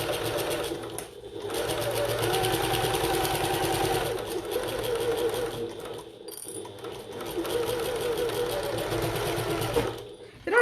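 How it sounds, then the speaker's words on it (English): A sewing machine runs a side seam on a bucket tote with a steady, close, rapid stitching chatter that briefly dips and pauses midway, then continues, ending with a small clunk. "we're going to sew from the top to the bottom of the seam using the regular 1/8 of an inch seam allowance"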